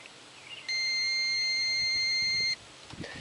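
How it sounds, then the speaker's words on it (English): A multimeter in continuity mode tests a car blade fuse and gives one steady, clear electronic beep of about two seconds against quiet background handling. "which will make a beep sound"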